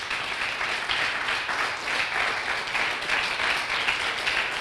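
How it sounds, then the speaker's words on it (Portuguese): A congregation at a church service applauds in praise of the Lord, a full, sustained roar of clapping from a crowd that stays level and unbroken for several seconds. "Dê um aplauso ao Senhor."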